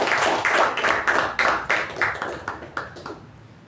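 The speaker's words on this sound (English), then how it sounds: "Can we have a round of applause?" Members at a Toastmasters club meeting give a short round of applause, a cluster of hand claps with a clear rhythmic pulse that thins out and fades over a few seconds.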